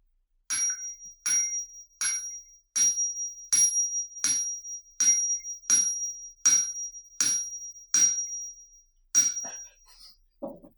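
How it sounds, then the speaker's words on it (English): A clock bell strikes twelve times, each bright, ringing stroke evenly spaced about three-quarters of a second apart and left to decay, heard clearly on its own with no voices. "The bell struck 12."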